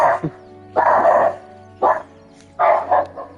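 Repeated loud barks from a dog nearby in a room, four or five punchy woofs in an uneven rhythm over a faint constant background hum.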